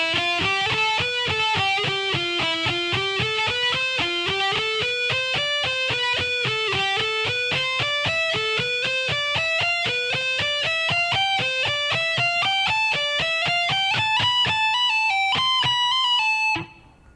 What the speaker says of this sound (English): So at a slow tempo, the whole lick should sound like this